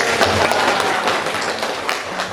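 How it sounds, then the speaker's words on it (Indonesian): A class of students applauds after their presentations in a school lesson. The clapping is loud, close and continuous for the whole short stretch. "Kita tepuk tangan dulu untuk."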